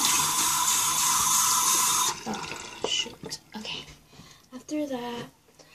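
A restroom tap runs loudly for about two seconds, then cuts off, leaving small splashes and drips while someone speaks.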